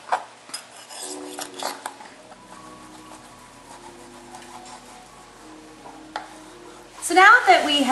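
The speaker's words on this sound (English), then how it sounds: "it's time to shred the steak and put it back into our stir fry" Scraping, clinking utensil sounds against a pan or plate as cooked steak is shredded, with a louder sizzling burst near the end as it goes back into a stir fry.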